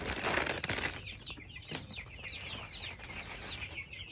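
Broiler chickens clucking softly in a pen at night, a brief burst of wing flapping at the start followed by steady, overlapping clucks up close.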